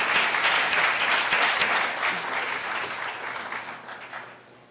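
Sustained applause from a town hall audience for a panel of speakers, a dense wash of clapping that starts full and slowly tapers off over several seconds.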